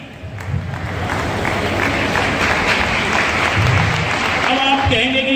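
Sustained applause from a school education-event audience in Sambhal, with many girls clapping; dense, steady clapping fills the whole stretch at close range, and a few faint voices rise near the end.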